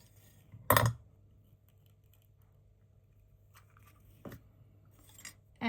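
A sharp snip of cutting pliers through a length of beading wire, one loud crisp cut near the start followed by faint small clicks and handling noises later.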